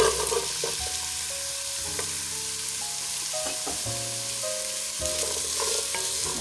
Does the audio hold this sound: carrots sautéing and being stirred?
yes